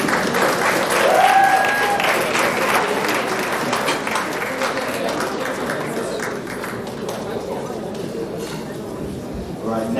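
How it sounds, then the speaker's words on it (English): A crowd at an awards ceremony claps in a sustained round of applause, dense and fairly loud, with some voices and cheering mixed in underneath. "That's a clap."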